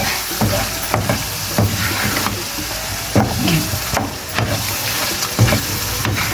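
Goat liver (kaleji) sautés in a hot pan with a soft, steady sizzle, broken by regular scraping knocks as it is stirred and turned.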